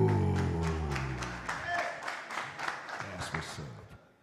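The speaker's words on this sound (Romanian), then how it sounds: "Aplauze pentru Robert" Audience applause for fighter Robert Pascaru at an RXF Next Fighter event, scattered claps rising after a voice fades out, moderately loud and then tapering off at the end.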